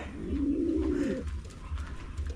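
A pigeon in a loft gives a soft, low throaty coo over a faint background hum, one rolling call followed by quieter murmurs.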